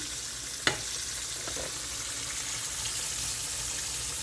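Tilapia fish frying in a pot of hot oil, a steady broadband sizzle running throughout with a sharp brief crackle or pop near the start, close and fairly loud with no talking.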